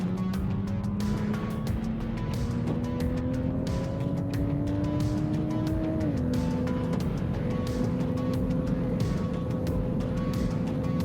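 Toyota FR race car lapping Manfeild circuit in the Castrol Toyota FR Oceania Championship, heard onboard as a loud, continuous engine drone that climbs steadily, drops with a gear change midway, then holds on; no talking.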